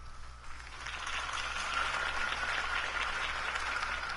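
Crowd applause inside the Batman Telltale video game, a steady wash of clapping that swells after the first half second and holds at moderate level with a low hum beneath.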